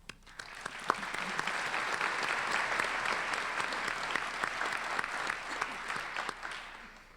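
A crowd gives a sustained round of applause for instructors and staff at a nursing commencement ceremony, steady and moderately distant, swelling after a quiet start.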